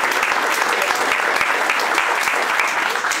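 Audience applause at a Munster cheese guild ceremony, steady dense clapping filling the room from start to finish, loud and close with no voices over it.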